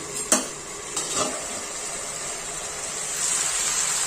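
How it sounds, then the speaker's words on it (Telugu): A lid lifted off a pot of chicken cooking in its own released water, two sharp metallic clanks early on followed by continuous close bubbling and sizzling hiss. "ఇదిగోండి ఐదు నిమిషాల తర్వాత మూత తీసి చూద్దాం"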